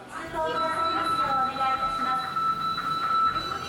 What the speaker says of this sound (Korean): 지금 영상에 보이는 열차가 한큐 열차예요.